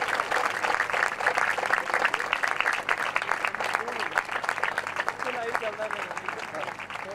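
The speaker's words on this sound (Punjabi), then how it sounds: "ਵੱਡੀਆਂ ਤਾਲੀਆਂ ਵਜਾਵਾਂਗੇ" A congregation at a Christian satsang gathering in a village claps in a dense, sustained burst of applause, with voices heard over the clapping.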